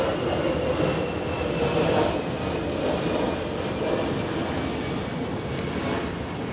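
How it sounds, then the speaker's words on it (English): Fixed-wing airplane passing overhead above remote train tracks, a loud, steady broadband engine roar that stays near and constant throughout with slight swells, no voices. "Wait for the plane. Wait for it."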